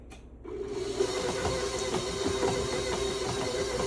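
A mixer grinds semi-sweet chocolate chips into cookie dough with a steady, close motor drone and a rough, gritty churning texture throughout.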